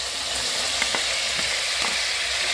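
Peeled, chopped vegetables for vegetable pulao sizzle steadily in a hot pan, with a few soft clinks of a spoon stirring them; no voices.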